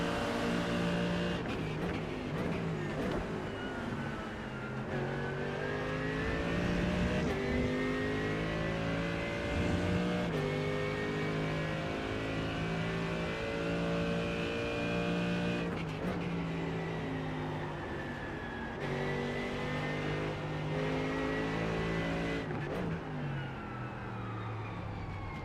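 Race car engines howling around the Interlagos circuit in the iRacing sim, a loud continuous whine that rises and falls through gear changes, with cars passing close and no break in the engine noise.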